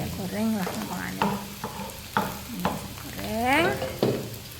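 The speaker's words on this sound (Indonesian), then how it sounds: "Saya pakainya bawang putih dan jahe yang tadi agak banyak bawang putihnya karena saya suka bawang putih teman-teman. Saya tumis dulu ya sampai kering." Garlic and ginger sizzle hard in a hot pan for a pok choy with oyster sauce dish, with steady frying crackle and repeated stirring scrapes and clanks close by.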